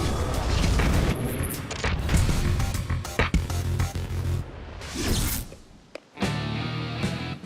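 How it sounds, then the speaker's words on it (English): An insect fogger can ignited by a spark in an enclosed space bursts in a series of loud booming blasts and crackling impacts, with rumbling bursts followed by a brief lull and another boom. "In an enclosed space, a single spark can cause an explosion."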